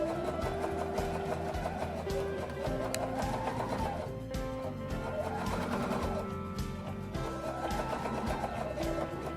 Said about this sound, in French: Je réalise ensuite une seconde couture parallèle à la première,